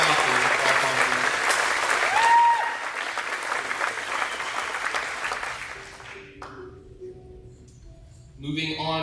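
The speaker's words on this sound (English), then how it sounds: "give a round of applause to our boys soccer all-conference" Audience applause fills a hall at a school athletics banquet, steady and broad for about six seconds before thinning out, with a brief tone and some talk over it near the end.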